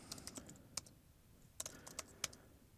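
A Linux command is typed on a computer keyboard, with quiet, close key clicks in short irregular bursts and brief pauses between them.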